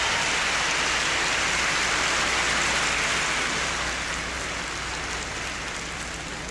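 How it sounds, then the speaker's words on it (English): Warm applause from a large audience at the American birthday party in Berlin's B-Halle, a dense sustained wash of many clapping hands that fades slightly toward the end, with no voices over it. "Warm round of applause."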